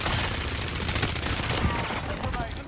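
Sustained automatic gunfire rattles continuously and loudly through a video game firefight, dense bursts layered with game effects.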